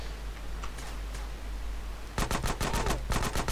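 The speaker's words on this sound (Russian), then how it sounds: "Даже проститутки стреляют. Это оружие помощнее немного." Gunfire in GTA San Andreas Definitive Edition at a club shootout, with a quiet stretch of background ambience before loud rapid bursts of automatic fire crackle close by in the second half.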